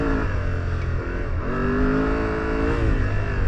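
A 2025 Yamaha Tenere 700 adventure motorcycle engine pulling hard off-road, a loud steady drone whose pitch dips briefly and then climbs again, with no voices over it.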